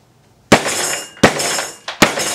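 Hammer blows shattering M&M candies on an Impact Gel saddle pad, three sharp loud cracking smashes with a fourth lighter hit, each followed by a short ringing decay.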